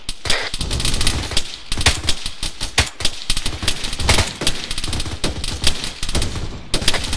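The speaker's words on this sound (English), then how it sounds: "That's a, that's a 50 cal." Heavy .50 caliber machine gun in the video game ARMA 3 fires repeated loud bursts of booming shots with sharp cracks throughout, nearly continuous and dense, with no talking.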